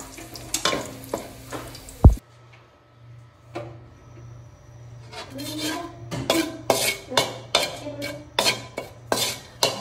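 Minced garlic sizzles in a hot pan for pancit canton, with utensil stirring and metal clinks over a steady crackle. A sharp clatter comes early, then scraping and tapping grow busier.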